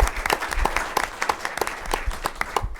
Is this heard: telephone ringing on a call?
no